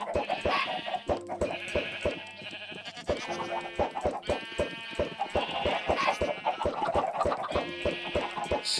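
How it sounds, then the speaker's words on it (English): Chickens on a Minecraft chicken farm, a busy overlapping chorus of clucks and bleat-like calls repeating in quick, even bursts, fairly faint and with no talk. "Do you guys like my very humane chicken farm?"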